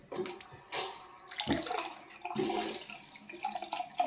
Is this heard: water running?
yes